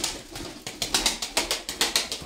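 A pigeon's rapid, evenly spaced fluttering bursts repeat about eight times in quick rhythm, close by and moderately loud, with no voices.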